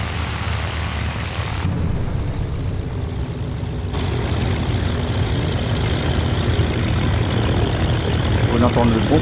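BF108 Taifun propeller aircraft engine in Microsoft Flight Simulator, heard from the cockpit as a steady, loud droning hum throughout, with a voice talking over it.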